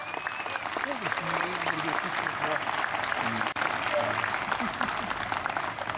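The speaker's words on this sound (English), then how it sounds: "Russ Murse, big round of applause for him." A crowd claps steadily and loudly throughout, with cheers and voices mixed into the dense applause.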